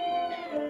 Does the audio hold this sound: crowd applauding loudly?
no